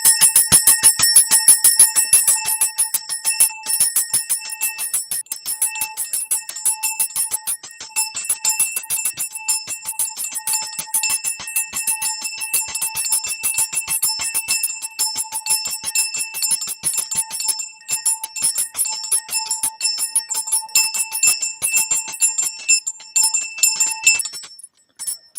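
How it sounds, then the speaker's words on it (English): A bell rings for about half a minute, struck loudly and rapidly without pause and with a bright metallic ring, heard on its own without talk. "we're going to end it ringing the bell for 30 seconds?"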